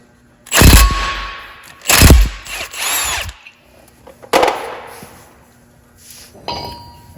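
An impact power tool driving a double-sided socket to remove a wheel spacer from a 1500 Silverado truck, loud short bursts of whirring hammering with metallic clanks and rattles between them.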